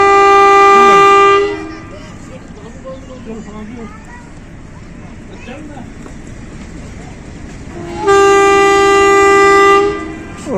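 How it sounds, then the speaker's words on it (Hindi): A Pakistan Railways Rawalpindi Passenger train sounds two long, loud, steady horn blasts as it departs, one at the start and one near the end. Between them someone talks over the low rumble of the moving train. "और ट्रेन चल पड़ी अब अपने आखिरी जो मंजिल है इसकी हवेलियाँ की जानिब।"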